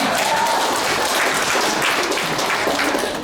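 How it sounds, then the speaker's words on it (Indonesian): A church congregation applauds during a Sunday sermon, a dense, continuous wash of many hands clapping at once, loud and sustained for a few seconds with faint voices mixed in. "Boleh kasih tepuk tangan"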